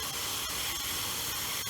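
A Danby Diplomat window air conditioner's fan slings water around its coils, producing a steady, close, hissing spray that never lets up, with a few faint clicks.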